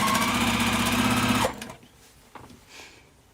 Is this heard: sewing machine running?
yes